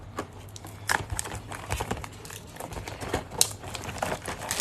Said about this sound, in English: Just gonna crack open the seal, and then I'll rip the box open